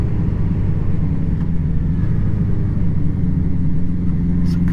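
A 1981 Honda CB750C motorcycle engine runs with a steady, loud mid-pitched drone and rumble while riding through gears, with no clear rev spikes and no talking.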